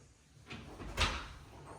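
A linen closet door in a house opens with a soft creak and a dull thud, faint and close in a quiet indoor space.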